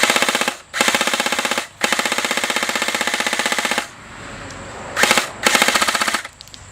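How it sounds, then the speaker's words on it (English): A T3 .30 cal airsoft machine gun fires long rapid bursts, loud and close, with two sustained strings, a brief lull, then two shorter bursts. "So I'm going to start firing."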